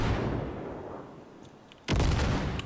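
A single loud, sudden shotgun blast in Cyberpunk 2077, following a stretch of quieter game ambience and ringing out with a sustained roar.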